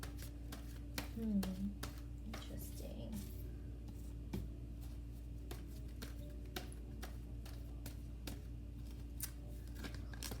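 Oracle cards being shuffled by hand, a steady series of soft, quick ticking flicks and snaps that runs for about ten seconds, close but faint over a low hum, with a brief spoken word near the start.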